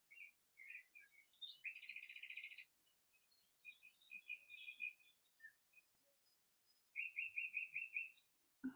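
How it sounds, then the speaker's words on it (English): Birds chirp and tweet in bursts of bright, high-pitched calls with short pauses between, fairly close, no talking. "Can you hear the birds?"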